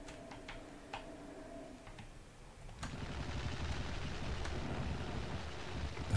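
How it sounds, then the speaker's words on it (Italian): Incinerator weapon firing in the video game Legacy of Rust: a few faint ticks, then a sustained roaring, hissing burst of flame that keeps going at moderate level to the end. "Dai, vediamo se riesco a sparargli con l'inceneritore dal basso."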